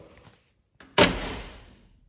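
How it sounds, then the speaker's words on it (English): A 1968 Mercury Marquis car door swings shut by itself with one solid, close thunk, its sound fading out quickly after a few faint clicks. "You just open the door, let go."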